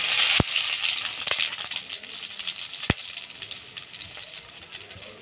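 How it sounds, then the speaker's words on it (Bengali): Snakehead fish pieces frying in oil for a Bengali fish curry, a steady close crackling sizzle throughout, punctuated by a few sharp taps. "আর বাকি মাছটুকু ভেজে নেব এরকম করে।"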